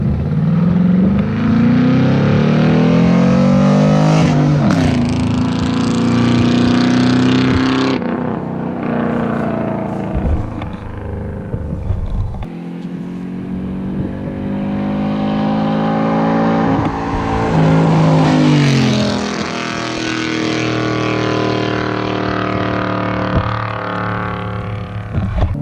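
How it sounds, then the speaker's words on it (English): A loud 5.3 V8 GMC Canyon pickup roars past with heavy revving, its throaty exhaust rising and falling as it approaches and recedes, then a second strong pass, heard alone without talk. "we'll go ahead and get him to drive by so y'all can see how loud it is when it drives by"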